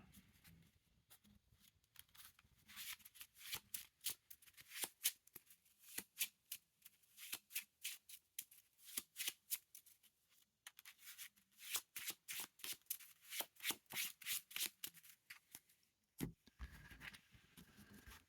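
A deck of playing cards is shuffled repeatedly, close and crisp, in bursts of riffling flutter with brief pauses between, during a tabletop card game.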